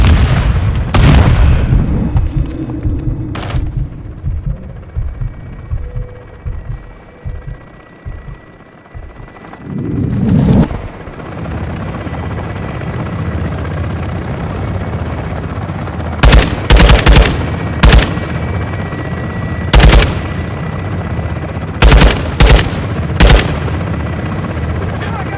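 Helicopter gun run in Call of Duty Modern Warfare 2: a steady rotor drone underlies several sharp bursts of machine gun fire and booming impacts, with loud blasts early on and a cluster of heavy shots near the end.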